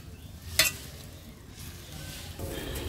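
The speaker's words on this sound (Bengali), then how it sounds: "তো এখন ভেজে রাখা মাছগুলো দিয়ে দিচ্ছি।" Fried rohu fish pieces go into a tomato and potato curry in a pan, bringing a sharp splash and crackle, then a low steady sizzle and stirring.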